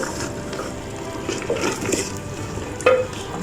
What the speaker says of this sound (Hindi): ये सारी डाल देते हैं। अच्छे से चमचा चलाएंगे।